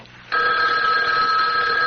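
A telephone bell starts ringing after a short quiet moment and keeps up a steady, loud, close ring, with no one talking.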